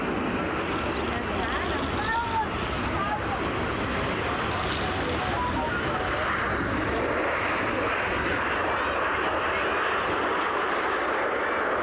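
A KLM airliner passes at Brussels Airport, its broad engine roar steady and loud for the whole stretch, with voices talking over it.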